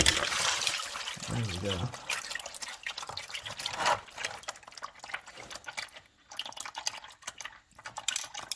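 Used transmission fluid from a 110,000-mile Ford Focus drains into a pan, trickling and dripping in an uneven patter, with a voice speaking briefly early on.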